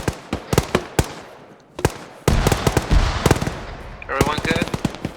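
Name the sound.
gunfire from the video game ArmA 3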